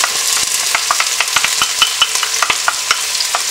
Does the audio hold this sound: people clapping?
no